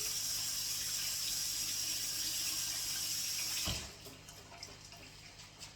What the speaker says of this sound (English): I'm going to go and wash my hands